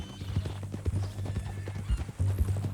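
Horse hooves clip-clopping in the video game Red Dead Redemption 2, a steady, close run of hoofbeats under a low engine-like hum, with faint voices in the background.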